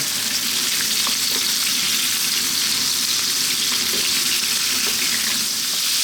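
Pork pieces, which could be belly cuts, stir-frying over high heat in a wok, giving a loud, dense, continuous sizzle with steady crackle and occasional scrapes as the meat is kept moving, close and unbroken.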